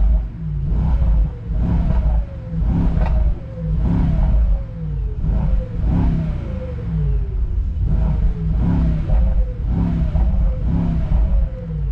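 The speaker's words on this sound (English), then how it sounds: "As soon as you switch it to sport, you have the V8 firing up" A Mercedes-AMG GT63 hybrid V8 in sport mode, revved repeatedly from inside the car, deep loud rumbling surges rising and falling in a steady rhythm of about a dozen pulls.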